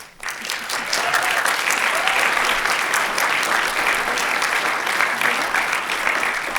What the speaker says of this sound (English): Thank you so much for staying and for this warm round of applause for the team.